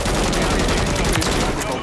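Rapid, loud bursts of automatic gunfire in Call of Duty Warzone 3, a dense continuous fusillade close up with no pauses throughout.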